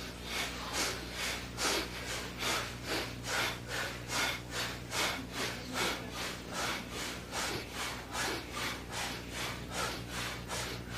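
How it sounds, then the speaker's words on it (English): Heavy rhythmic buffalo breathing exercise: forceful snorting breaths repeat steadily about once a second, loud and close, with no talk over them. "buffalo breathing"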